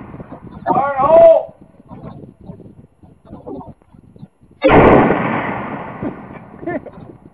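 An M82A1 rifle fires a single loud, close shot that booms and rolls off in a long decaying echo, after a shouted warning and some talking.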